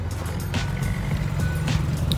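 A truck's reversing alarm beeps in a steady repeating pattern over the low rumble of busy street traffic on a windy day, with engines droning throughout and the beeps standing out clearly.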